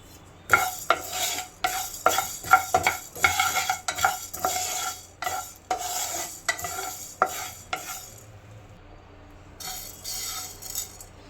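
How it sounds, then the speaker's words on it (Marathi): Coriander seeds being dry-roasted and stirred with a spatula in a hot pan while preparing mutton gravy, giving a run of close, loud scraping and rattling strokes that stop briefly before a final burst of stirring, with no talking. "पॅन आपला मस्त गरम झालेला आहे मटन ग्रेव्ही बनवण्यासाठी आपण धने भाजून घेऊ"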